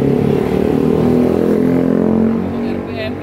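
A Dongfeng 10 hp diesel engine drives twin water pumps at about 2200 RPM, a loud, steady close-up drone with a throbbing tone that dips slightly toward the end.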